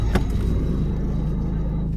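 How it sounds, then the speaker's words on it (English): Car with a blown muffler rumbling loudly and steadily, a heavy low exhaust drone filling the clip with a brief sharp pop near the start. "the muffler just blew up. The car's making a crazy noise."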